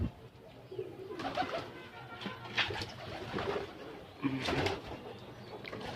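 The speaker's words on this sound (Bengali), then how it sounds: "দেখতে পাচ্ছেন, এই হলো কবুতর, অনেকে ডিম নিয়ে বসে আছে" Pigeons nesting on eggs in a loft give low, soft coos in repeated rolling bursts, close by, with light rustling and scattered chirps between calls.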